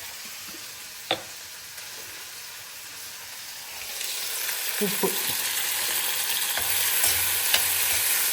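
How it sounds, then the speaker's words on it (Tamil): Onion, garlic, curry leaves and fennel sauté in a pan with a soft, steady sizzle and a few stirring scrapes, growing slightly louder partway through, while a voice briefly speaks. "வெங்காயம், பூண்டு, கருவேப்பிலை இதெல்லாத்தையும் போட்டு நல்லா வதக்கி கொடுத்துடலாம்"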